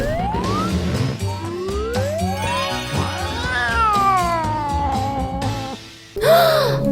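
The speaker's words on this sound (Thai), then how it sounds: "ฉันชอบแมวแบบนี้" Cartoon-style cat meows rise and fall in pitch several times over a busy, loud background of music and effects, with a sharp bright burst near the end.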